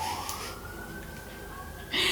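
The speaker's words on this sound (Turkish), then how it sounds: "Ambulans!" An ambulance siren wails at a distance, a steady rising tone under loud outdoor ambient noise, with a brief burst of nearby sound at the end.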